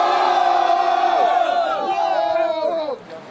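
A crowd at a rap battle event roars and shouts loudly for a rapper in a sustained, dense wave of cheering and whooping voices that fades toward the end.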